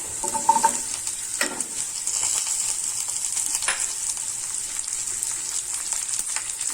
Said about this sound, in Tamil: சின்ன வெங்காயம் சேர்த்துட்டு நல்லா வதக்கிக்கலாம்.